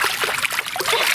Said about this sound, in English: Too much splashing.